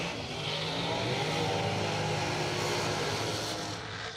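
A drag racing car roars loudly at a bracket racing event, producing a steady, sustained engine drone with no break and no talking over it.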